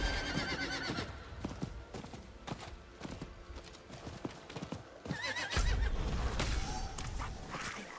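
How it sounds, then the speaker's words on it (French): A horse mount in the video game Diablo IV trots with steady, rhythmic hoof clops, then lets out a loud neigh near the end, with faint game sounds around it. "C'est vrai que j'ai un poney."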